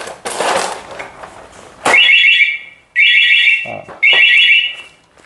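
A Suzuki Raider R150 motorcycle alarm set off by its shock sensor sounds three loud, identical warbling electronic chirps, each about a second long with brief gaps between them, after a short burst of handling noise.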